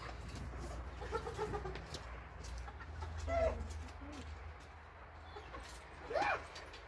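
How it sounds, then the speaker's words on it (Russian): Faint, soft clucking of chickens in short scattered calls against a low background hum. "Вот серенькая курочка вышла."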